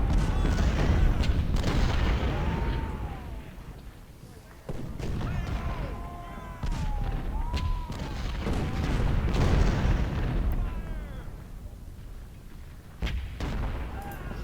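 Six-pounder cannon booming repeatedly in a Civil War strategy game battle, loud thuds in an irregular barrage with faint trumpet-like calls and someone talking over them.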